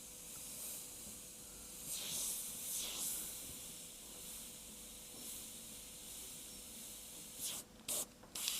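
A soft, steady airy hiss of fine airbrush paint spraying runs throughout, swelling in a few short bursts, quiet and close.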